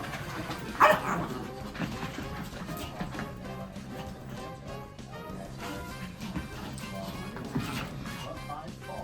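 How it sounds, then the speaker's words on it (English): Dogs play together indoors, giving scattered barks, yips and small whimpers, with one sharper bark near the start over a constant background bed. "look at my dogs playing with each other"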